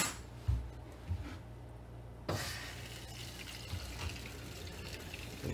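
Water runs steadily through a six-stage UKOKE reverse osmosis filtration system as it flushes and fills its chambers, a soft continuous hiss with a few faint knocks and a brief louder surge partway through.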